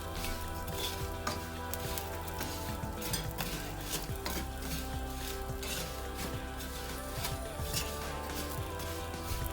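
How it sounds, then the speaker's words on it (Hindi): Walnuts are stirred into melted butter in a pan while making kunafa: continuous soft sizzling with scraping and clinking of a spoon against the pan, steady and close throughout. "अब मैं डालूंगी इसमें हाफ कप के बराबर अखरोट और इनको भी अच्छे से मिक्स करूंगी"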